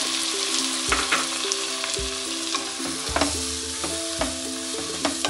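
Four tomatoes sizzle as they fry in a pan with softened onions for paneer butter masala, a steady crackling hiss broken by regular spoon scrapes and stirring knocks, close and loud with no talking.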